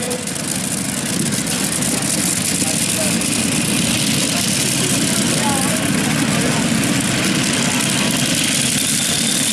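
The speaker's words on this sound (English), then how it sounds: "And the blowers are whistling away." Loud, steady supercharged super modified tractor pulling engine roar with a high whistling whine from the blowers, continuous and close, rumbling throughout without pause.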